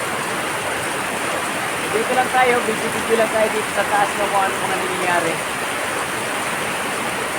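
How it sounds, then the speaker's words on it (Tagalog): Heavy rain pouring steadily in Naic, Cavite, a loud dense broadband roar that holds through the whole stretch while someone talks over it. "Ayan, lakas ang ulan."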